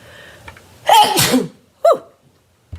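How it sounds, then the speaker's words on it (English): A single loud, close sneeze bursts out with a sharp breathy release, followed by a short sniff and a brief click. "So I'm going to sneeze."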